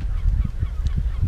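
Honking birds, like geese, call repeatedly in short nasal bursts, fairly close, on a sandy shore in the Glénan archipelago, over a constant low rumble of background noise.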